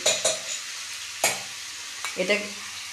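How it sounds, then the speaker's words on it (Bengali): Potato and pointed gourd stirred and fried in a pan: a steady soft sizzle with a few sharp scrapes and clinks of the spoon against the pan, close by, no talk. "আমার আলু পটলটা তো ভালো করে একটু নেড়ে চেড়ে ভেজে নিলাম"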